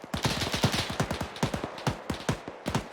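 Rapid gunfire aimed at the player in ArmA 3, a steady rattle of closely spaced shots in quick bursts, loud and continuous with no speech.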